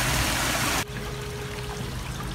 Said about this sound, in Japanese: こっちやばい、泥水が流れ込んでますね。